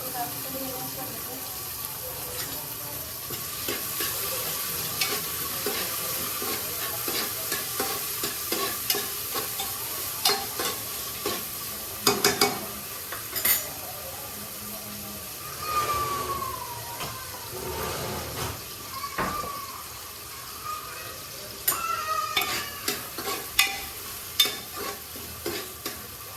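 Tomatoes stirred and fried in a pan for a home-style pulao, a continuous sizzle with repeated spatula scrapes and clacks, with a voice speaking at times over the cooking.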